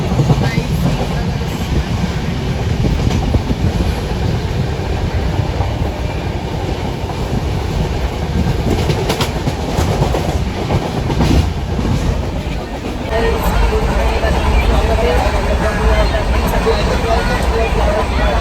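A passenger train travelling from Panvel to Mathura, heard from inside as a loud, continuous rumble with rhythmic clickety-clack over the rails, while voices murmur in the carriage.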